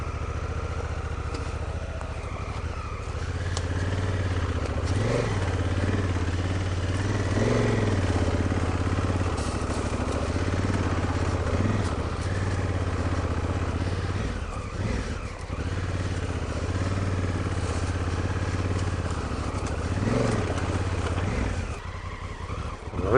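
A Honda Africa Twin motorcycle riding an off-road trail on MotoZ Tractionator adventure tires, its engine droning steadily and close with mild rises and falls in throttle, no voices.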